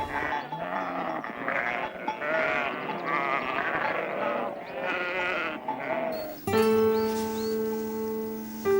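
Goats bleat repeatedly in the Mediterranean foothills of Andalusia's Serranía de Ronda, overlapping wavering cries close by across the whole stretch, with a brief clank near the end before a steady tonal drone takes over.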